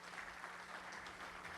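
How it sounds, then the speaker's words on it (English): Audience applause at a Cloud Expo conference general session, a dense, steady patter of many hands clapping in a large hall, heard faintly and evenly with no voices over it. "thanks for the applause"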